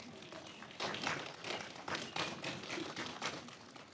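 At a university graduation ceremony on the Griffin campus, graduates stand and applaud their families, a diffuse crowd clapping that swells and rolls in waves, heard from a distance and fairly quiet.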